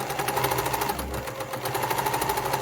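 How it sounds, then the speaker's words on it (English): A sewing machine runs steadily, stitching a wallet at a normal stitch length with a continuous mechanical hum and rapid rhythmic needle pulses, close and loud, with no talking. "now I'm going to show you me sewing them"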